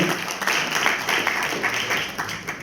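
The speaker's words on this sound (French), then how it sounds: "on peut l'applaudir" An audience at a press conference for an international sand marathon gives steady, close applause, a continuous wash of clapping with a voice talking faintly underneath.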